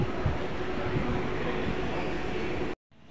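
A continuous rumbling roar of an MRT train at Sembawang station in Singapore, steady and fairly loud with a faint whine, cutting off abruptly near the end.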